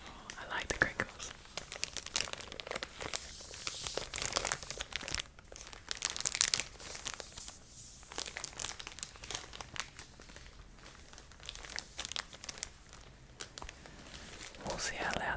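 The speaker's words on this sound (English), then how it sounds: "Oh, I like the crinkles." Vinyl record sleeve crinkled and handled close up in a quiet ASMR setting, soft irregular crackling bursts scattered throughout with occasional whispered talk underneath.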